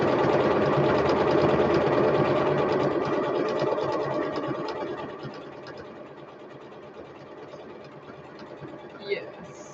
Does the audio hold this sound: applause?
no